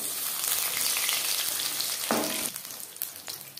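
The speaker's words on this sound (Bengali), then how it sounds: "একটা সাইড ভাজা হয়ে গেলে অপর সাইডটা উল্টে দেবো।" Pumpkin flower pakoras frying in hot oil, a loud close bubbling sizzle that briefly flares and then settles slightly quieter, with a few light clinks near the end.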